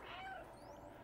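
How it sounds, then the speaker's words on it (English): A cat meows in the video game Stray: a brief, fairly quiet in-game meow with a rising then falling tone, heard alone over faint background ambience. "What does the guardian do if I meow?"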